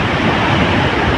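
Big ocean waves wash and break against a ship in bad weather, a brief loud broadband rush of water and wind.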